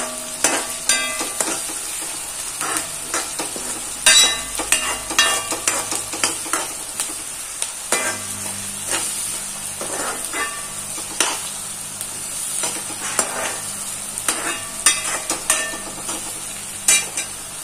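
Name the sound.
sautéing grated carrot with salt in a pan for carrot thoran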